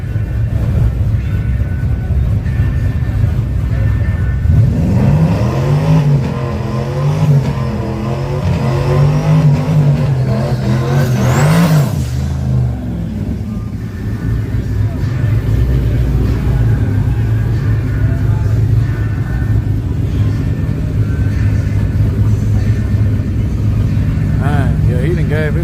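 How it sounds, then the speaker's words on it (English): Drag racing cars, one of them a turbocharged Mustang, accelerate hard down a strip in a loud, rising engine roar with a sweeping pitch climb midway, while people talk over the noise. "That Mustang on the other side got a turbo on it."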